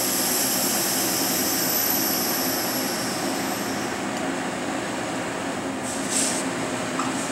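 A steady, loud rushing hiss of air fills the clip without a break as a Plasma Preen 11-973 plasma system's bell jar is purged after the vacuum is turned off, with a brief higher whoosh near the end.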